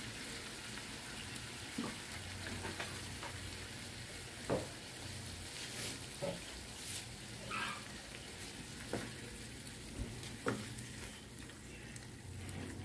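Squid adobo sizzling in a pan just after soy sauce goes in, a soft steady frying hiss with occasional faint clinks and stirring taps.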